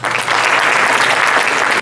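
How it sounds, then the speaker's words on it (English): Audience applause fills a gala banquet hall for elected officials, a steady dense wash of clapping that holds at full strength from start to finish without any talk over it. "Let's give a warm round of applause again for all of our elected officials who joined us tonight."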